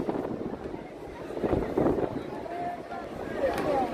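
Wind buffets the microphone outdoors at a Fourth of July fireworks gathering in New York City, making a steady rough rumble throughout, with muffled background voices underneath.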